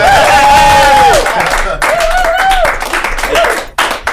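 Comedy club audience applauds a comedian with clapping and cheering, as a loud host's voice and whoops ring out over the crowd.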